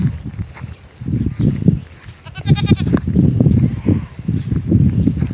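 Goats bleat repeatedly at close range, a string of loud, wavering calls coming in uneven bursts over several seconds, with a short sharper cry in the middle and light background noise.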